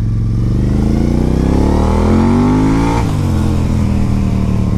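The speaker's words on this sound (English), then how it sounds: "when you're revving up, it kind of throws you sideways" A Moto Guzzi motorcycle engine revs loudly and close up, its pitch climbing steadily and then dropping back, with a strong, throaty sustained tone and no voices.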